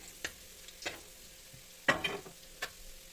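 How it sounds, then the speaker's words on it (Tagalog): Pork sautéing in a pan for pancit bihon, stirred until golden brown: a low steady sizzle broken by a few sharp scraping strokes of the utensil, the busiest cluster near the middle, with no talk. "halo lang ng halo hanggang magano siya, golden brown"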